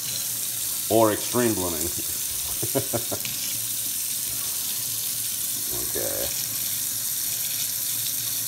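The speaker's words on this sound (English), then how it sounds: "And put in some hot water on the puck." Hot water runs from a tap onto a shaving soap puck, a steady broadband stream of water that continues under brief nearby speech at the start.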